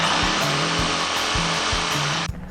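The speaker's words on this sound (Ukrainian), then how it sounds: "А тепер вам розповімо про наш найпотужніший лобзик." A Dnipro-M jigsaw, the brand's most powerful model, saws through wood with a loud, steady high-pitched buzz and rhythmic stroke pulses, running alone for over two seconds before cutting off abruptly.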